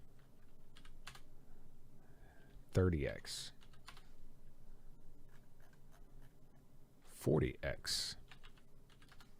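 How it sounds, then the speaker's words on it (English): Clicks of a computer keyboard being typed on at a desk during 3D modeling work, sparse taps scattered across the clip, with two brief bursts of someone speaking over the quiet typing. "And then we'll type on the keyboard"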